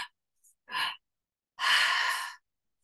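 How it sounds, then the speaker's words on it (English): A demonstration breath: a short sharp inhale drawn into the belly and upper chest, then a longer audible exhale pushed out through the mouth, close and alone. "when you exhale, you're going to exhale all through your mouth"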